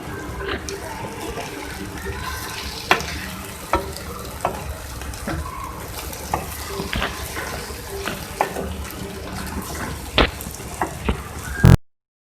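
An egg and potato omelette mixture cooks in a pan, giving a steady close sizzle broken by irregular sharp spatula taps and scrapes as it is stirred and mixed.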